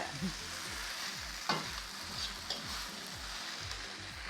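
Fried rice sizzling and frying in a pan at home, a steady crackling hiss with rhythmic scraping strokes of a stirring utensil repeating about every half second, close and continuous with no talk.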